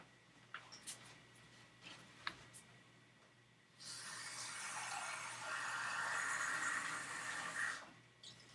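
Water runs or pours steadily for about four seconds for a drink, a close, continuous rushing that swells slightly before stopping, with a few faint clicks and taps before it.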